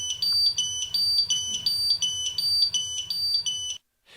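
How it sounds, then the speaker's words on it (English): A portable gas detector's high alarm: rapid, insistent electronic beeping in quick repeated pulses, loud and close, stopping abruptly near the end. "For a high alarm, the rate of the alarm pulsation becomes more urgent."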